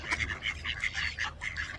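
Wild ducks gathered on a frozen lake, a steady run of repeated quacks and calls from several birds nearby, moderately loud with no one speaking.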